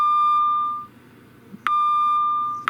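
A train TPWS audio and video alert unit sounds a steady electronic beep tone, one long beep that stops, then sounds again after a short pause, close and clear over a faint hum.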